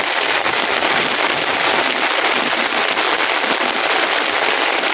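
Steady, dense rain pours down in a village, a loud, even hiss with fine crackling patter on surfaces that holds unbroken throughout, with no voices.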